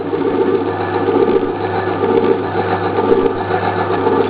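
An electric motor runs steadily in a workshop, giving a loud, constant hum with a buzzing mechanical whir and no break in its rhythm, close up and alone with no talk.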